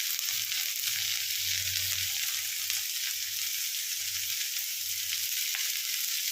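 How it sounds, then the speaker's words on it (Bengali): Onions sizzle and crackle steadily in a hot pan, a bright continuous frying hiss with faint low stirring bumps underneath. "এতে পেঁয়াজটা ভালো করে ভাজা হয়ে যায়"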